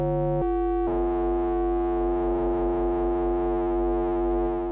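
A Prophet Rev2 synthesizer holds a sustained buzzy tone, with an LFO modulating oscillator 1 frequency; after a brief shift in timbre near the start, the pitch wavers in a smooth, steady wobble.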